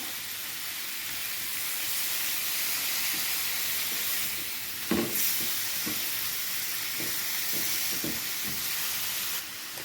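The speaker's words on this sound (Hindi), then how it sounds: "इसको भी हम इसके अंदर फ्राई करेंगे और इतना फ्राई करेंगे जब तक कि इसका कलर चेंज नहीं हो जाता" Cubed chicken frying in a pan for a snack recipe gives a steady broadband sizzle throughout, close and fairly loud, with a few brief stirring knocks and clatters near the middle.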